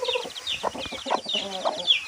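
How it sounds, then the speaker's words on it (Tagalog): Native chickens cluck softly and busily while feeding, with short overlapping calls and scratchy pecking sounds close by. "kumakain na sila guys"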